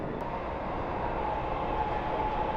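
Dubai Metro train running with a steady, continuous rumble and hum throughout, close by and loud, with no speech.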